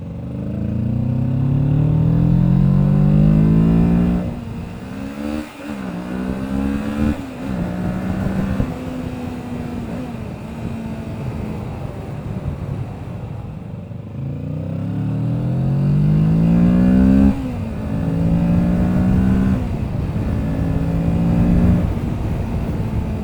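A Kawasaki Ninja 650 twin-cylinder motorcycle heard while riding, its engine note steadily rising through the gears with repeated upshifts, loud and close with wind rush beneath and no talk.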